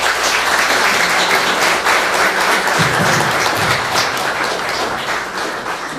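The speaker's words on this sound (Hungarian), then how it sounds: "köszönjük még mindenkinek egy nagy tapsát" Audience applause at the ninth-anniversary celebration of a Hungarian pensioners' association in Kartal, dense and steady clapping that fills the whole stretch and eases slightly toward the end.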